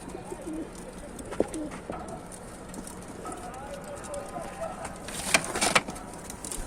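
Pigeons coo softly in short phrases against a noisy background at a pigeon sale in Tanta, Egypt, with occasional sharp rustles and flutters near the end.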